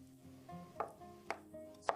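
A knife chops a potato into small pieces on a board in a home kitchen, with three sharp, distinct cuts spaced about half a second apart over a steady low background hum.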